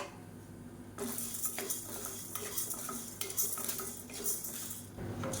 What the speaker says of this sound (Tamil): இப்போ இதையும் சேர்த்து நல்லா பொன்னிறமாக வறுத்துக்கலாம்